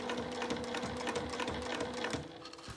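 A professional-use sewing machine stitches through the thick layered mouth of a bag at its slowest pedal speed, giving a steady, close, mechanical whirring with a soft repeating needle rhythm throughout.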